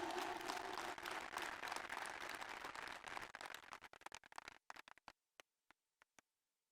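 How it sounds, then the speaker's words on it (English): An audience at a university convocation applauds loudly, then the clapping thins out and dies away into a few scattered last claps. "we all need to give him a tremendous applause."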